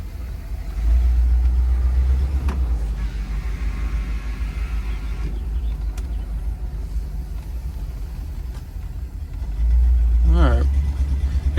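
A 1966 Cadillac Eldorado on 22-inch wheels driving along a road, its engine a steady low rumble rising in the middle, with someone talking over it.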